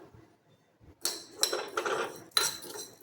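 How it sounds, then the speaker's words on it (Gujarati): A metal pan clatters down onto a gas stove, followed by a second sharper clank of cookware; close and fairly loud, no talking. "ત્યારબાદ આપણે અહીંયા ગેસ ઉપર મૂકી લઈશું"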